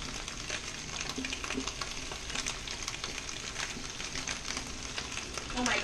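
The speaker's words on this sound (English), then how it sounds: "We're going to add our onions to the pan." Onions sizzle and fry steadily in a hot pan, a continuous crackling hiss with occasional stirring scrapes; a voice is briefly heard over it.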